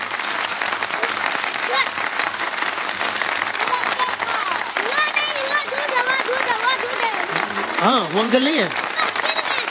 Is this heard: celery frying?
no